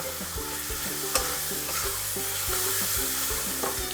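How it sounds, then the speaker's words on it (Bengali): Mutton curry with spices sizzles in a pan while being stirred, loud continuous frying hiss with regular scraping and stirring strokes, close up and without talk. "নুন দিয়েছি দিয়ে এবার এটাকে ভালো মতো কষে নেবো"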